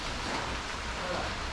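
Rain falls steadily at a villa in Caluco, El Salvador, as a dense, even hiss that fills the background without any clear breaks.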